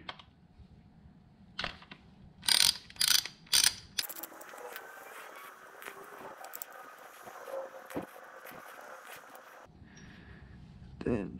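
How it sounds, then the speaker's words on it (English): A ratchet removes the screws of the primary chain inspection cover on a Buell XB12S motorcycle, giving bursts of quick clicking pawl strokes and metallic rattling at close range amid quiet handling noises. "we're just going to take off these screws for the inspection cover"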